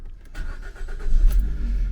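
A Vauxhall Agila hatchback that had been parked for three months starts after a new battery is fitted. The starter cranks briefly, then the engine catches into a loud, steady, close idle rumble.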